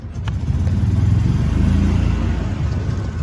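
Club Car utility cart pulling away, a loud, close engine drone with a low rumbling hum that holds steady throughout.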